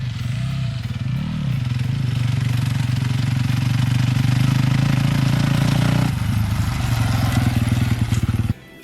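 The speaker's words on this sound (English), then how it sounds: "Your motor will be under-revving." A motorcycle engine lugs at low revs in too high a gear, giving a steady loud chugging drone with a faint warble early on. Its tone drops slightly partway through before cutting off abruptly near the end.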